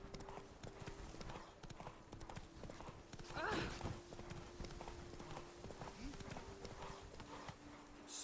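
Roach, a horse in The Witcher 3 video game, walks with a steady clip-clop of hooves throughout, while a voice speaks briefly over the hoofbeats.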